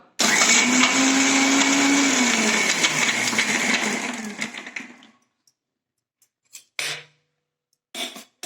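A mixer grinder whirs loudly and steadily for about four seconds while grinding coriander thokku, then winds down and stops, followed by a few short bursts of clatter.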